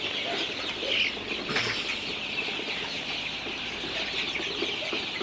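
Dense, continuous high-pitched peeping from many Sonali super hybrid chicks at night as they are given water fills the space, with occasional clucks and a brief flutter of wings, steady throughout.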